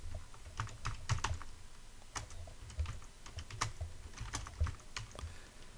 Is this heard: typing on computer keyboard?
yes